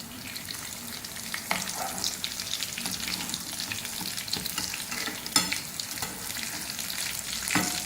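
Vegetable kebabs fry in a pan with a steady oily sizzle throughout, marked by a few sharp crackles and pops as pieces are turned one by one.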